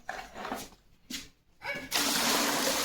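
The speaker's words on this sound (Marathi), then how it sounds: "हे पाणी त्याच्यात टाकून दे लवकर होऊन जाईल" Water poured over mud-covered toy cars while washing them, a few short splashes followed by a continuous rushing pour, with a voice briefly in between.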